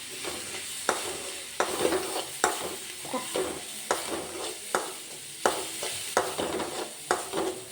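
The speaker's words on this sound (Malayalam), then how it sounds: "അതും അതിൻ്റെ പച്ചമണം മാറുന്നിടം വരെ ഒന്ന് വഴറ്റി കൊടുക്കുക" Red chilli powder sautéed in a pan, with a soft bed of frying sizzle broken by regular spatula strokes scraping and stirring about once a second, close and clear, without talk.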